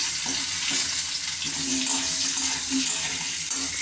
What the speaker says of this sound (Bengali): এখন আমি আলুগুলোকে একটু তেলে সরিষার তেলে ভেজে নিচ্ছি।